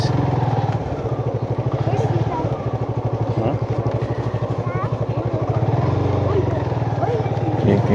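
A motorcycle rides along a badly damaged, rough street, its engine putting out a steady, close, pulsing low rumble the whole time while the bike clatters and jolts over the broken surface.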